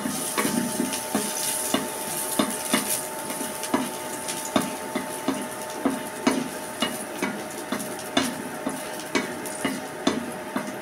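Two minced garlic cloves frying in oil while a spatula scrapes and stirs them in a regular rhythm of clicks over a continuous soft sizzle.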